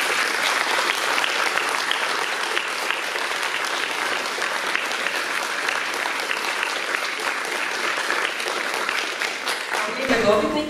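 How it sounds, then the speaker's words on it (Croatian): Audience in a culture hall applauds award winners at a town recognition ceremony, a long, dense and steady wave of clapping that fills the room without a break before fading out at the very end. "Pozivam nazočne da još jednim pljeskom nagradimo dobitnike"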